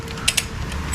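A ratchet clicks while lug nuts are worked on a 1996 Corvette fitted with 17 x 11 inch wheels, giving a couple of sharp, close mechanical ticks and a final burst over a steady low garage hum.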